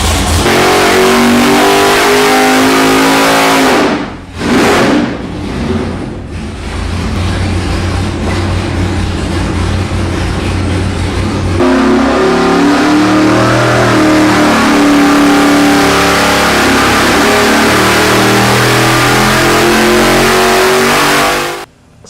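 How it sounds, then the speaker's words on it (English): A loud, rumbling 572 fuel-injected V8 hot rod engine runs continuously with a choppy, lumpy idle, briefly dipping and blipping before settling into a steady heavy growl. "Listen to that idle."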